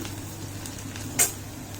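Vadas fry in oil in a pan, a steady, soft continuous crackle with one brief sharper pop near the end.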